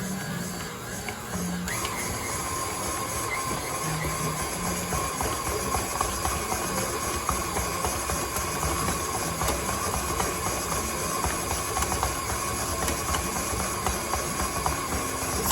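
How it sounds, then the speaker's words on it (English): Stand mixer kneading soft king cake dough, a continuous mechanical whir with a steady hum and light rhythmic churning, close and fairly loud, running alone with no voices. "stand mixer do what it needs to do to knead our dough"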